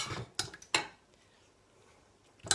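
A ladle knocks and scrapes against a slow cooker pot while goulash is scooped out, a few quiet clinks with a pause between them.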